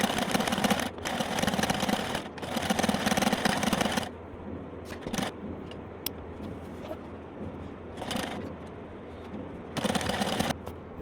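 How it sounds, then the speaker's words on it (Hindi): A sewing machine stitches the joined seams of circular umbrella palazzo pants in quick bursts of rapid, close mechanical whirring, separated by quieter pauses with light handling sounds. "अब मैं आसनों को एक साथ मिला के इनके ऊपर स्टिच कर रही हूँ।"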